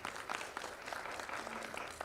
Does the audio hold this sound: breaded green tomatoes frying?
no